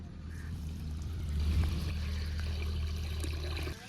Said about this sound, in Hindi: अब इसमें ऐड कर देंगे हम पानी।